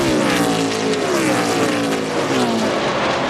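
NASCAR stock cars racing at Lowe's Motor Speedway in the 2005 NEXTEL Open, a loud, continuous roar of several engines at high revs with shifting pitch sweeps as cars pass close together.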